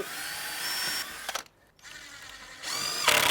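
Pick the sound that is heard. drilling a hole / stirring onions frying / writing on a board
drilling a hole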